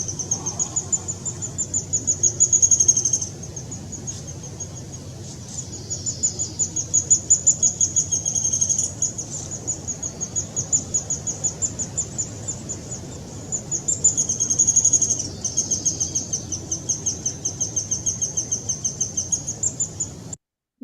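A breeding bird calling in a yard, heard from a played recording: a high, thin chirp repeated rapidly and insistently in long runs, with a few brief pauses and short louder bursts, over a faint low background hum.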